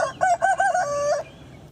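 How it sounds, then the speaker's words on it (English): A rooster crows once up close in a video game, a loud, clear cock-a-doodle-doo of about one second that breaks into several rising syllables and ends on a long held note. "Yes, this is yes, this is rooster."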